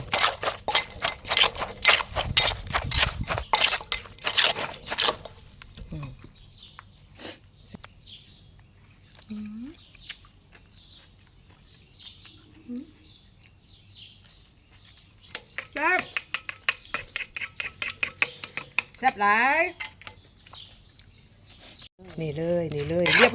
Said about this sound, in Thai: เห็นบ่นี่ค่ะที่เขาตำกัน